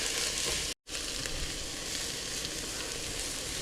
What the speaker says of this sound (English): So everything's been sweating just for a few minutes here.